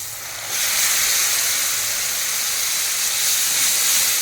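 Coconut milk is poured into a hot pan of chicken masala for murgi musallam, setting off a sudden loud steam hiss and sizzle that stays strong and steady close up.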